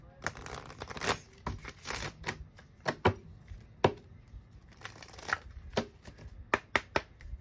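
Tarot cards being shuffled and drawn from a deck, giving a string of close, crisp riffling flicks and slaps in irregular bursts throughout.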